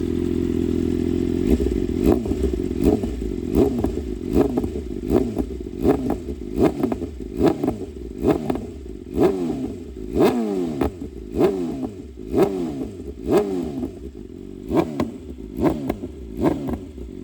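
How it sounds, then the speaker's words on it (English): A BMW M1000RR motorcycle with a loud, raw aftermarket exhaust revs repeatedly, sharp throttle blips rising and falling in quick succession, close and very loud. "Give it a couple revs."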